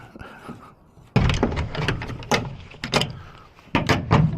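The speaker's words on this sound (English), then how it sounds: "And now to fight this door." A shed door is worked open, producing a run of loud clunks, scrapes and rattles in bursts at close range, with no voices.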